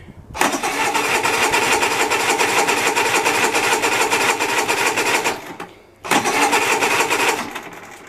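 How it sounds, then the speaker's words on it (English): A small engine cranks and catches with the choke pulled after servicing, then runs at a rapid, steady chatter. It is loud and close, cuts out briefly near the end and restarts. "So we'll turn the fuel on, pull out the choke, turn the key."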